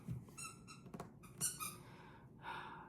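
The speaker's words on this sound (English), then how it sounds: "Y'all forgive the squeaky toys if you can hear them." Squeaky dog toys squeak indoors in a quick run of sharp, high, faint squeals, several close together early on and another stretched squeak near the end, with some breathy noise between them.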